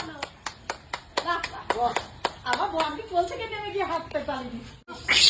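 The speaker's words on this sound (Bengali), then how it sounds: "হাততালি দাও" Hands clap in a quick, regular series of sharp claps during a street monkey show, then voices talk over the final claps.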